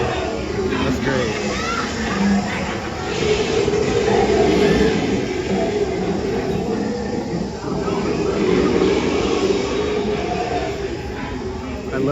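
A Disneyland train ride at night rumbles and clatters steadily and loudly throughout, a dense continuous rolling roar with a lively crowd of voices talking over it.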